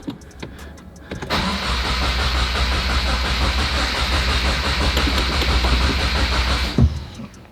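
A 2022 Subaru WRX is cranked with the throttle held wide open and clutch in, a close, loud, rapid rhythmic churning of the starter turning the engine over for several seconds before it cuts off.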